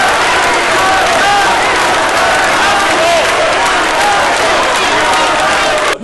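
A packed crowd in a town hall courtyard in Padua greets a new mayor with sustained applause, cheering and stadium-style chanting, loud and continuous throughout, with voices blended into the roar.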